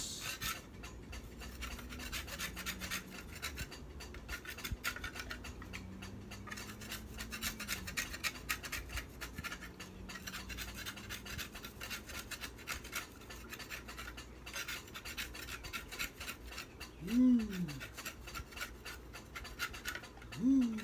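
Coconut shell being scraped clean of its fibrous excess, a steady low rasping scrape running continuously with a couple of brief louder scratches near the end, no talking.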